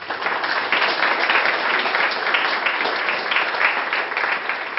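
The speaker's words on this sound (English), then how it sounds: "Can we applaud the teachers?" An audience applauds teachers at a talk on parental involvement, with steady, dense clapping from a crowd that holds at an even level throughout.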